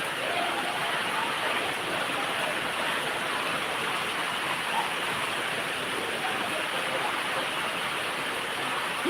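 Steady rain pours down outdoors, a dense, even hiss that holds at the same level from start to finish with no pauses.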